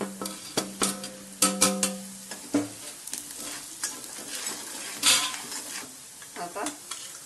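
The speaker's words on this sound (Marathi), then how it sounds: "जिरं टाकू, हिंग टाकू आणि गरम मसाला पण टाकू." Cumin, asafoetida and garam masala fry in hot oil for urad dal, a light sizzle under bright clinks and scrapes of a metal spoon against the pan, coming in irregular bursts.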